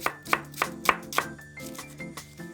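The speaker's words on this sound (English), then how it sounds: "So we'll add a small amount of French eschalot. We'll just cut that down the centre and then finely slice it." A knife finely slices a halved French shallot (eschalot) on a board, giving five or six crisp, evenly spaced cuts, close and fairly clear, then a few softer taps near the end.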